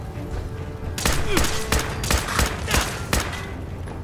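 Alien blaster fired in Fallout 4: a run of about six sharp energy-weapon shots in an uneven rhythm, close and loud over low background noise.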